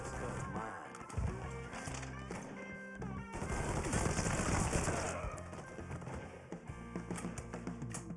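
Rapid bursts of automatic gunfire and scattered shots ring out in the Mafia 3 video game, loud and close, with rattling volleys of varying length across the whole stretch.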